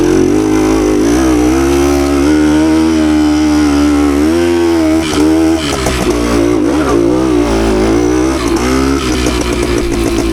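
A loud two-stroke engine on a 52-year-old Suzuki TS185 dirt bike revs continuously, its pitch climbing and dropping as the throttle is worked, close up and buzzing.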